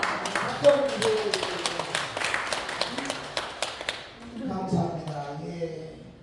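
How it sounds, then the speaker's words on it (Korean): Audience clapping at a Korean talk concert, a steady spatter of hand claps for about four seconds, then dying away as voices take over. "박수 주세요."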